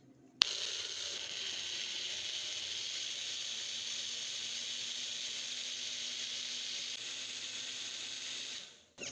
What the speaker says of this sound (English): I'm gonna go ahead and blend for approximately 1 to 2 minutes